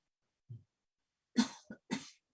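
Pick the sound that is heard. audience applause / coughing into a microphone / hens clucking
coughing into a microphone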